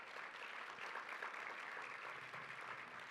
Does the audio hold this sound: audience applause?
yes